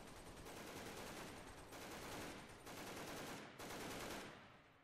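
Sustained automatic gunfire from SWAT weapons against zombies in Garry's Mod, loud and dense in long unbroken bursts separated by brief pauses, with no voices over it.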